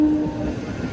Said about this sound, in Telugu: వ్యాప్ 7 లోకోమోటివ్